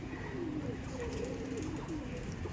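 Pigeons in a loft at a house where a flock is kept, a pair of cocks among them, give soft, steady cooing and low throaty calls, close and continuous against a busy background.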